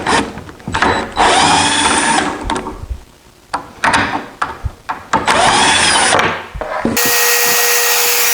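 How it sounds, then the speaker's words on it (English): A power drill drives screws into the end grain of teak cutting boards, loud whirring bursts that start and stop repeatedly, with short quiet gaps and a final steady high whine. "I install them using screws. I'm screwing into end grains"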